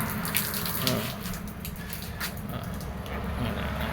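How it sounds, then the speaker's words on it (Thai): Water is poured and splashes continuously while a pet crested myna bird is bathed, a steady running-water rush with small splashy bursts and a brief soft voice in the background. "ขอให้เทน้ำนะครับนกเอี้ยง"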